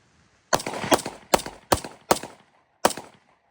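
A Ruger RXM pistol fires five rounds, the first two close together and the rest spaced about half a second apart, each shot loud and sharp with a short ringing tail, with no talking.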